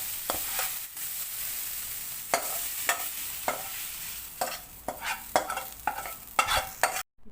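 A spoon stirs sautéed grated carrot into batter for kuzhi paniyaram, producing repeated scraping, sloshing strokes over a faint sizzle, close and fairly steady, ending in abrupt silence.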